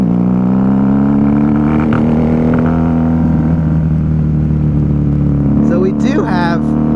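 A 1994 Honda Magna 750 V-four cruiser with baffles removed from its tailpipes cruises along, its engine a loud, steady low drone with a rising tone, while a rider talks over it and wind buffets briefly near the end.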